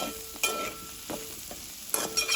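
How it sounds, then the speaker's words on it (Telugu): Potatoes frying in a pan on a home stove, with a steady sizzle under several sharp scraping stirs that come in bursts, close and moderately loud, with no voices. "ఇలా కూడా ఆలు ఫ్రై చేసుకుంటే"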